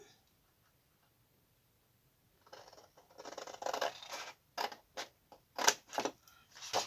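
Scissors cut scrapbooking decor paper for a box, heard as a series of close crisp snips and crinkles that begin after a quiet stretch and grow more frequent toward the end.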